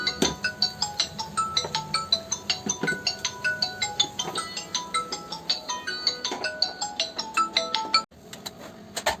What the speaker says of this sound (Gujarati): ચાચી કેયાનો ફોન